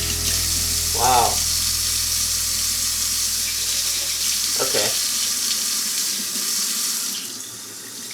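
Water runs steadily from a newly installed kitchen faucet into the sink, a continuous broadband rush that fades out near the end, with a brief spoken word over it.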